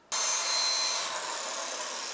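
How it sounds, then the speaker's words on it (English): A steady, abrasive whir of a power sander working a natural-edge olive wood bowl, starting abruptly and holding a continuous broadband hiss with slight variations in pressure. "just power sanding it"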